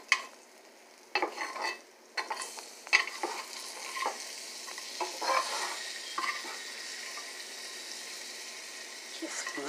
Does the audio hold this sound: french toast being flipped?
yes